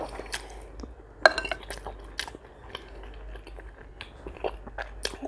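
Close-up eating of shchi soup with saury, with crunchy bites, chewing and occasional clinks of spoon against dish in a quiet room, scattered irregular mouth sounds and no talking.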